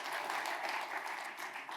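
A short burst of audience applause, dense and steady clapping from many hands throughout.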